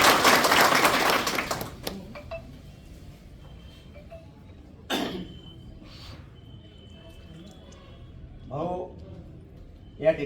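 Audience applause for an MLA at a political gathering in Buldhana, a loud burst of clapping for the first two seconds that fades quickly into quieter room noise with a few voices afterward.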